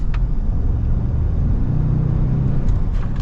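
A 2022 Ford Expedition Platinum pulls hard under acceleration in sport mode, its engine a steady, close, low rumble with a rising whir throughout.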